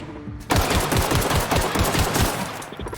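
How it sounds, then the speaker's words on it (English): Gunfire in The Outer Worlds: a shotgun opens up after a brief quiet lead-in, followed by a dense, loud run of rapid overlapping blasts that carries on without a break. "Oh, the shotgun's so bad."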